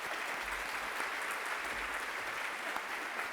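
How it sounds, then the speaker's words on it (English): Audience at a biohealth summit award presentation applauding the professional staff, a dense, even patter of many hands clapping, somewhat distant and soft, continuous throughout. "they deserve a round of applause as well for all the work that they do"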